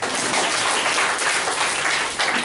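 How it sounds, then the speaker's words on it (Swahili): A church congregation claps and cheers for Jesus, a dense, loud, continuous wash of applause that fills the whole short stretch, with no clear voice on top. "Supige Yesu makofi."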